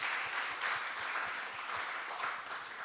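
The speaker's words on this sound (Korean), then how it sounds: "여러분 큰 박수 한번 부탁드리겠습니다" A church congregation at a Friday worship service claps together for honoured parents, a brief, dense burst of applause from many hands, steady and moderately loud with no talk.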